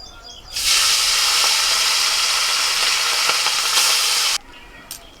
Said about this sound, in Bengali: বাকি মাছগুলোকেও ভেজে নিচ্ছি।